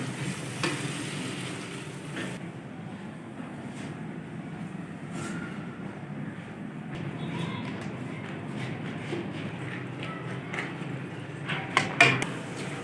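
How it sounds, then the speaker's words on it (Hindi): Three to four finely chopped tomatoes fry in masala for a dhaba-style egg curry, giving a steady close sizzle with stirring throughout and a few sharper scrapes of the spoon near the end. "अब हम बारीक कटे हुए टमाटर ऐड करेंगे 3 से 4 अदद। और अच्छी तरह से इनको भी फ्राई कर लेंगे।"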